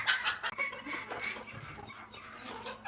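Fancy chickens cluck at close range in a backyard coop, short overlapping calls with no talk over them.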